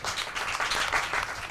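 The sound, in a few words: audience clapping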